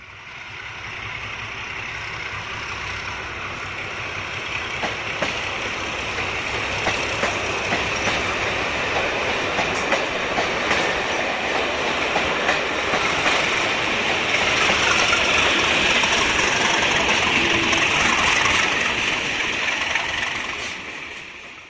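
A Rail Sprinter model train runs around a layout, its steady rolling clatter and rail noise going on without a break and swelling slightly louder as it nears.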